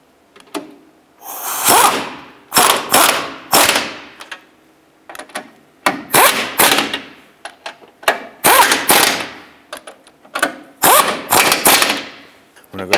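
A power tool snugs the upper shock-mount nuts on a 2005-10 Jeep Grand Cherokee front shock and spring assembly. Loud, close bursts of rapid rattling impacts come in a dozen or so short runs separated by brief pauses.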